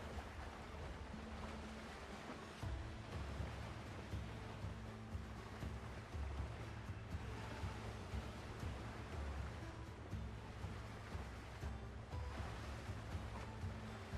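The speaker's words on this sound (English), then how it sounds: "Well, they have big, cool waves, at least." Big ocean waves from the game Windrose roll and wash continuously at steady moderate volume, a broad surf rumble with deep swells underneath and no voices.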